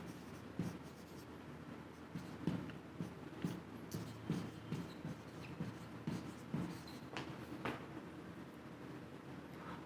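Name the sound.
writing during a math lecture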